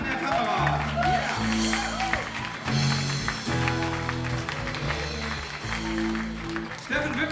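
A concert crowd applauds the cameraman at a club band show. Steady clapping sits under loud, sustained band music with a voice talking over it.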